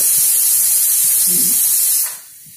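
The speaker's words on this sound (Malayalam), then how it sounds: "കുക്കറിൽ വിസിൽ" A pressure cooker vents steam in a loud, steady, close hiss that runs for about two seconds and then cuts off abruptly, leaving a quiet background.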